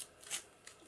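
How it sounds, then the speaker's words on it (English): Paper being torn by hand for a junk journal page, a single quiet rip with a brief papery crackle, close and soft, with no talking. "I'm just going to tear off"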